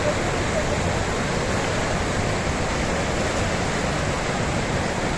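Dhuandhar Falls waterfall at Bhedaghat, a steady, loud roar of crashing water filling the whole scene without pause, dense broadband rush close by and no voices audible over it.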